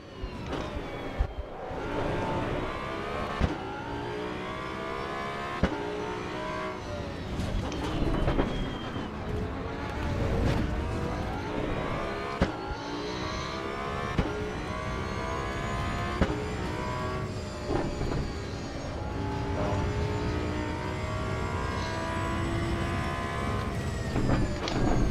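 A race car engine lapping the Nürburgring in the Assetto Corsa EVO racing game, loud and continuous, its pitch repeatedly climbing and dropping through gear changes with occasional sharp clicks, heard alone throughout.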